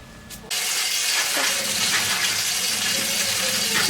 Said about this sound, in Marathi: नळाला पाणी आले